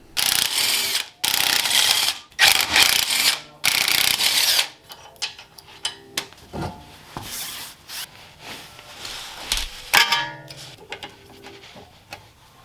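A ratchet works loose the front suspension of a Honda CRX. Several long, loud runs of rapid clicking come first, then shorter clicks, clanks and rubbing in the garage, with no talking.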